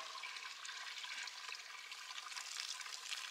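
Water drains steadily from a tank used for waxing coyote traps, a continuous hissing trickle, close and fairly faint, with no talk.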